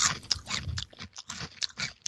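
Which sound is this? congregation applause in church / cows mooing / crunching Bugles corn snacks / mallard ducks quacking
crunching Bugles corn snacks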